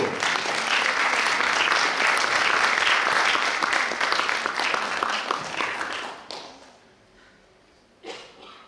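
Sustained applause from an audience at a school and youth sung poetry festival award ceremony, dense and loud clapping for about six seconds before fading, with a short burst of claps near the end.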